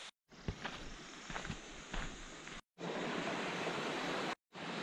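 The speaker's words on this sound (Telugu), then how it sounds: "సో ఇక్కడ వాటర్ ఫాల్ ఉంది" A mountain waterfall on the Rudranath trek gives a steady hissing rush of falling water, close and continuous, broken by a few abrupt gaps.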